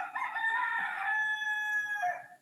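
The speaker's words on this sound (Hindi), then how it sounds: "मुर्गा किसके यहाँ बोल रहा है भाई?" A rooster crows nearby in one long, loud, drawn-out call that rises and holds before trailing off, with no talk over it.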